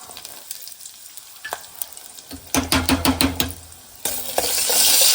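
A tempering of chillies, cumin, mustard seeds and garlic goes into hot oil for a home-style dal dish, with quiet clinks first, then a sudden burst of spitting, crackling sizzle that swells into a loud steady hiss up close.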